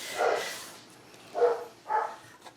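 A dog barks at a delivery: three muffled barks, the first one separated from a closer pair, faint and some distance away indoors.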